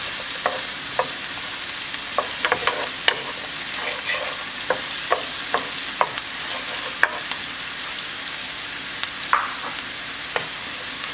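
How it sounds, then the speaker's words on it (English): Chopped white onions sauteing in hot oil in a pan, a steady close sizzle with scattered crackles and pops and light stirring clicks throughout, no talking. "we're just going to saute these onions about 30 to 45 seconds"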